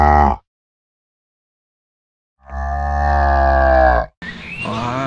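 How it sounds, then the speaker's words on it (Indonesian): A cow lets out a short moo, then after a silent gap a long, deep, loud moo follows, and a rougher grunting low ends it. "Ini adalah sapi ya."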